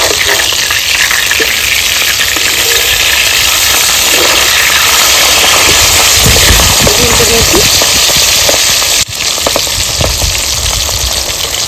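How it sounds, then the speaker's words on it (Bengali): Pabda fish sizzles loudly in hot oil with a steady crackling hiss, briefly interrupted by a scrape as the fish is turned in the pan. "আর মাছটা উল্টে দেব।"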